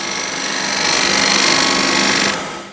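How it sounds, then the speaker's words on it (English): A spear point scraper shear scrapes wood turning on a lathe, giving a close, loud, continuous buzzing rasp with a rapid fluttering texture that fades out at the end. "spear point scraper, go into the corner and move away in a nice shear scrape mode."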